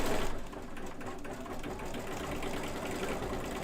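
An embroidery machine stitches out the eyes of a design on a monster-themed zipper bag, a continuous loud, close mechanical whir with a rapid needle rhythm and no speech.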